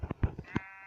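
A sheep in a video game (an island Minecraft-style world) gives a short, shaky bleat in a few quick pulses, close and clear, lasting under a second with no talking.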